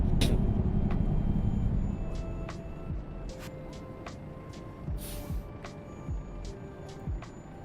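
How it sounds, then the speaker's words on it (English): In American Truck Simulator, a truck engine rumbles low and loud under a steady hiss, with repeated sharp air-brake bursts and chirps scattered through, all close and without speech. "there's a truck and too much sound going on at the same time"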